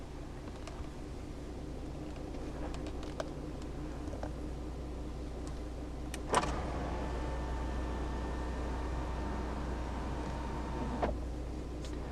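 Electric rear sunshade of a 2015 Audi A5 Coupe 3.0 V6 TDI quattro S line, a soft steady motor whir running for several seconds between a click at its start and another at its stop, over a constant cabin hum.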